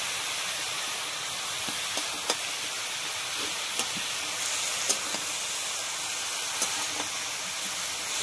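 Tomatoes go into a hot pan for a spicy, crispy cabbage pitha, giving a steady, moderately loud broadband sizzle and hiss throughout, with a few small pops and crackles scattered over it and no talking.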